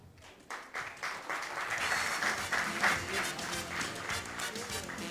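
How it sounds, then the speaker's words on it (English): Audience applause at a film's first-look launch event for Unforgettable, a steady crowd clapping that builds after a quiet start and holds at a moderate, fairly distant level, with some voices mixed into the noise. "A big round of applause for that, please"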